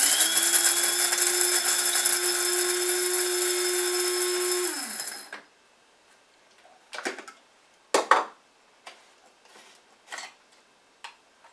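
A coffee and spice grinder on its coarse setting runs with a loud, steady motor whine for about five seconds, then cuts off. Scattered light clicks and taps follow in the quiet afterward.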